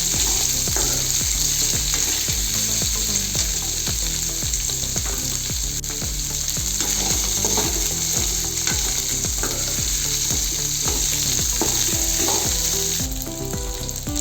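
Onions and coconut fry steadily in a pan for Tamil fish kuzhambu, a loud continuous sizzle with scraping stirring, under soft background music.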